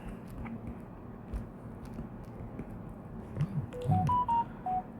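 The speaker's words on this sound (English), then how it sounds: "Excuse the notification sounds." Electronic notification sounds near the end of the stretch: a quick run of short, clear beeping tones climbing in pitch. They are fairly soft over a quiet background, with a few faint blips earlier.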